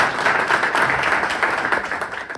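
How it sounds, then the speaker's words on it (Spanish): Audience applause at a commemorative event for an earthquake anniversary, a brief burst of dense clapping at moderate volume that begins to thin out. "Un aplauso para ella."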